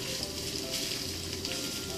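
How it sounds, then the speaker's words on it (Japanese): Steady, close sizzling of pork frying in a pan that was not yet fully hot, a continuous crackling hiss with no one talking. "お肉焼きます。"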